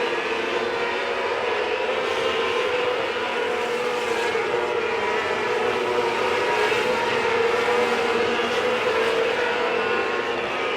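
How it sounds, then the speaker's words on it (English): Micro sprint race cars roar around the I-30 Speedway track in a continuous, loud engine drone that rises and falls slightly as they circle. "Matthew Baldwin making some noise out on the I-30 Speedway right now"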